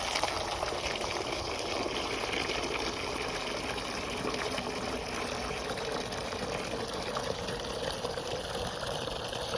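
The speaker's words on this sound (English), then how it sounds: "Let's get them full of water." Steady rushing water flows continuously as chick water containers are filled from a tap or hose, with no voices.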